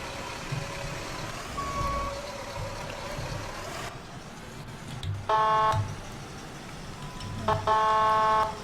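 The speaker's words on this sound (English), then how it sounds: "That's air horn." A blaring video game air horn sounds twice in short bursts over a low engine rumble and background noise.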